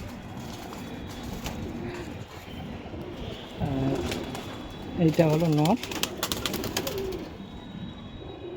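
Jira pigeons coo in a loft in a rhythmic, throaty burst of repeated notes, nearby and fairly loud, with someone talking over and around the calls.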